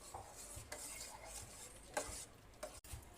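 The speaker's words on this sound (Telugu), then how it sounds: "ఇప్పుడు ఈ అన్నాన్ని పాలల్లో వేసి కలపాలండి" Cooked rice being stirred into milk in a metal pot, a steady scraping and sloshing with a few sharper utensil knocks against the pot, close and fairly quiet, no talking.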